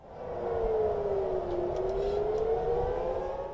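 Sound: civil defense warning sirens in Tel Aviv during missile attack

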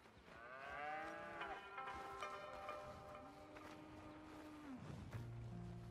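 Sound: cows mooing on a ranch in the video game Red Dead Redemption 2

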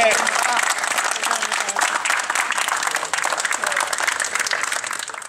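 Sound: applause at reopening of Bondeno red zone

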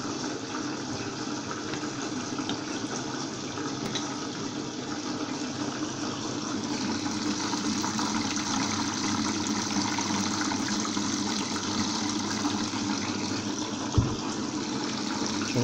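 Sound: Arçelik washing machine filling with water

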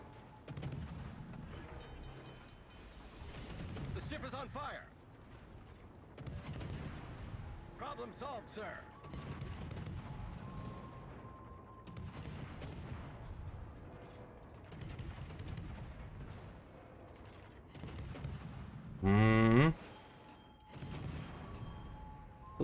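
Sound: gunfire from naval guns in a video game

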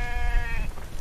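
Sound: sheep bleating in video game The Infected

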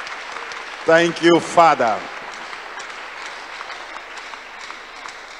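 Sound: congregation clapping

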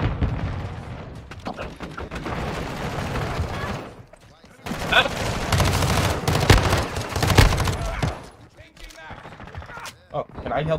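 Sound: gunfire from the video game Modern Warfare 2

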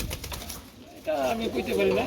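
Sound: pigeons cooing

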